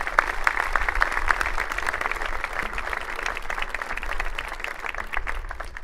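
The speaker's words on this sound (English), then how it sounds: "a quick applause in his absence." Audience applause at the dedication of an athletic center, a steady, dense wash of clapping from a sizeable crowd that holds for several seconds without a break.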